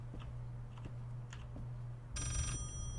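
An old telephone bell rings in the horror video game Layers of Fear, a short metallic burst near the end over a low steady hum with faint ticking clicks before it.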